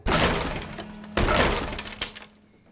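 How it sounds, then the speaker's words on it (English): An acoustic guitar is smashed in an animated family story, giving two loud splintering crashes about a second apart and then a smaller knock, with a faint hum ringing between them. "She picked up Miguel's guitar and smashed it."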